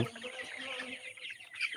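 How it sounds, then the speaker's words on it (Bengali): Color Bird chickens, 36 days old, clucking and chirping together, a busy flock heard close by with no talking. "এটা হচ্ছে আপনার কালাবাট মুরগি"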